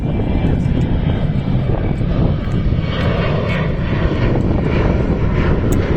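Fixed-wing airplane passing overhead above a desert on Tenerife, a steady broad engine drone that stays loud and continuous throughout with no talk.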